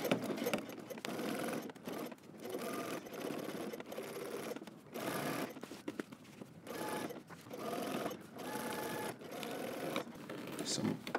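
A sewing machine stitches a zipper into a jumpsuit in close, steady bursts of rapid mechanical whirring. Short pauses break the runs as the stitching moves near the zipper teeth.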